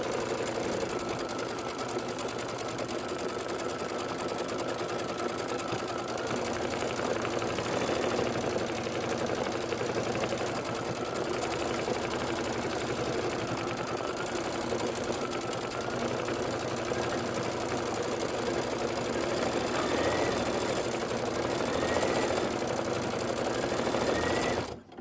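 An embroidery sewing machine stitches with black thread in a long, unbroken run, its rapid mechanical needle rattle steady and close throughout before stopping abruptly at the very end.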